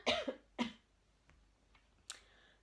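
A person with a nasal cold coughs during a knitting chat: two sharp, close coughs, then a single softer cough after a quiet pause, near and alone.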